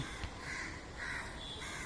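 Crows cawing at sunset, three or so harsh caws spaced about half a second apart over a steady outdoor background hiss, moderately close, with no voices.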